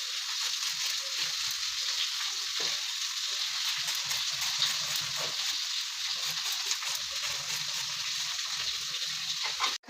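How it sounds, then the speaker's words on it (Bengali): Potatoes fry in oil in a pan, a continuous bright crackling sizzle held steady and close, ending in a sudden clatter. "এখানে আমাদের আলুটা ভাজা হচ্ছে"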